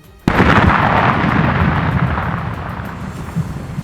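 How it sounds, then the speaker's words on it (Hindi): A sudden loud blast of detonated land mines followed by a long rumbling roar that slowly fades, heavy and booming like a detonation heard at some distance. "इसके बाद वो इलाका धमाकों की गूंज से थर्रा गया"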